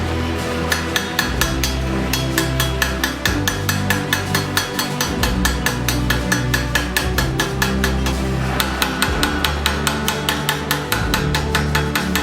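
Hammer peening a hand-forged steel sword, a rapid, regular series of sharp metallic strikes repeating close by and loud, with no talk.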